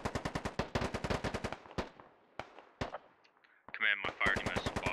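Gunfire in a military video game: rapid bursts of sharp automatic shots up close, a few scattered single cracks in a brief lull, then another fast burst, with a voice briefly heard.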